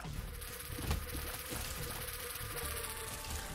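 Droning insect buzz of a fly in The Binding of Isaac, a steady close hum that runs the whole stretch under dense game background sound.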